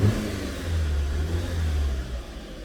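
A 2016 VW Golf 1.8 with a hard-start and random-misfire problem, its engine running steadily close by after starting, with a low, even idle rumble that rises slightly as it revs.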